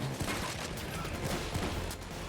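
A sentry turret in Payday 2 fires a steady stream of rapid gunfire, a dense, continuous rattle of shots with mechanical clatter, moderately loud and sustained throughout.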